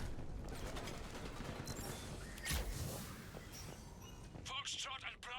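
Heavy gunfire crackles in Mass Effect 3 as a continuous, fairly faint barrage of shots and impacts, with a voice speaking over it.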